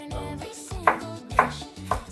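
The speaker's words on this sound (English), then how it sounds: "you just give them a rough chop" Rough knife chopping of ingredients for a creamy Peruvian aji verde green sauce: three sharp, evenly spaced strikes on a board over a steady tonal background.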